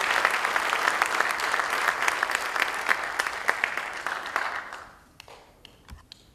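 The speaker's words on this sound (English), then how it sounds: "Please give him a big applause." Audience applause at a community gala, a dense sustained roar of clapping from a large crowd that carries for several seconds, then drops away abruptly into scattered claps and quiet.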